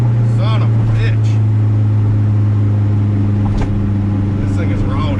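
A 500-horsepower turbocharged Honda K24 car rips along a street, its engine droning loud and steady with rising revs and bursts throughout, and a voice briefly audible over the roar.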